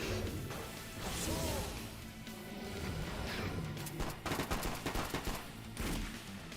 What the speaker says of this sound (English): You missed your gunshots! How? You fired so many!